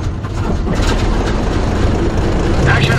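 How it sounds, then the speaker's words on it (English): A German tank engine rumbles at close range in the WW2 Normandy game Company of Heroes. It is a steady, heavy, low drone that holds without a break throughout. "Ready. Starting engine."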